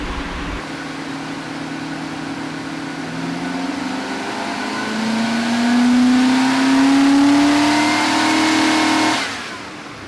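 A Nissan President's engine revs up from a steady idle, the pitch climbing smoothly to a sustained high note before dropping off abruptly, recorded close and loud with no talk.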